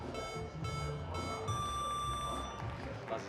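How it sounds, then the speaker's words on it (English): Competition buzzers at a dock diving semi-final sound as steady electronic beeping tones over a busy arena background, fairly loud, lasting several seconds with a sustained tone in the middle. "Buzzers beep."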